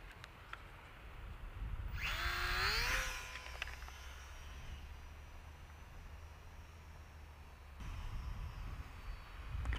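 An Eachine A6M Zero RC model airplane whines past with a rising, pitch-bending motor tone, loudest briefly and then fading to a faint distant buzz. The motor swells again toward the end.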